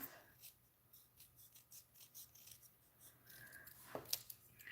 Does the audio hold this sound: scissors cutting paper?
yes